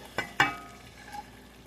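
Chopped vegetables for a beef stew go into a hot pan on medium-low heat: two sharp clacks close together, then a faint, low sizzle. No one speaks.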